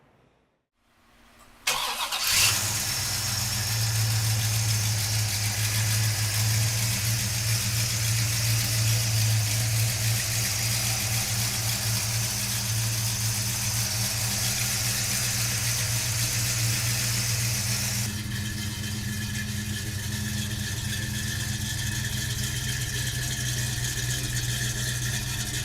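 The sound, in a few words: 1968 Pontiac GTO 400 cubic inch engine starting and idling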